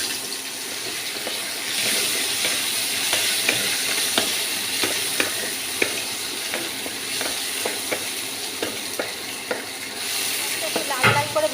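Chopped onions with whole cumin frying in a pan give off a continuous close sizzle, punctuated by regular scraping and stirring taps against the pan.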